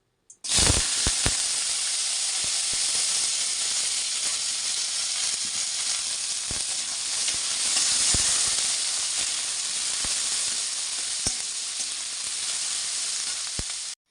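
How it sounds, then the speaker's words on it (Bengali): Potatoes sizzle and fry in hot oil for a Bengali breakfast potato curry, a steady, close, loud hiss with occasional sharp pops and crackles throughout, no voices. "তো চলো এখন তেলটাও গরম এখন আলুগুলো ছেড়ে দিই"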